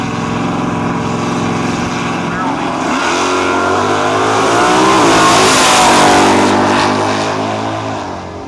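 A 1970.5 Camaro with a small-block 427 launches at a nostalgia drag race in Cayuga, Ontario, its engine revving and roaring louder as it pulls away, with a track announcer's voice over it.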